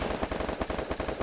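Rapid automatic gunfire in the shooter game Free Fire, a loud unbroken burst of fast, evenly spaced shots filling the moment with no voices.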